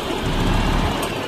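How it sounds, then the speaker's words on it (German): A driving-school vehicle's engine starts, a rough low rumble swelling in loudness midway and then settling into a steady idle, nearby and fairly loud, with no speech. "Motor starten."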